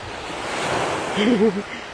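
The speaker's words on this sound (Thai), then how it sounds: "เดี๋ยวเราพาเดินลงทะเลเนาะ อันนี้ก็จะเป็นริมหาดนะคะ" Evening surf washes onto Phla beach in Thailand, a broad continuous roar of waves with some wind buffeting, while a voice briefly speaks over it.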